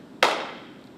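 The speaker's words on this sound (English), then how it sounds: "So say I clap my hands." A single sharp hand clap in a quiet lecture room, loud and close, with a short fading tail.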